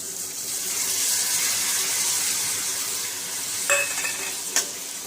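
Soaked chana dal tipped into a pan of frying onions for a Marathi dal-onion dish, giving a steady close sizzle with a couple of brief splashy bursts of stirring near the end; no one speaks.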